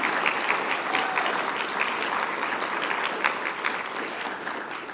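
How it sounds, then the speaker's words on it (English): Dense, sustained applause from a conference audience at an association's closing session, many hands clapping at once in a loud, even wash that holds steady for five seconds with no voices above it. "Please give yourselves a round of applause."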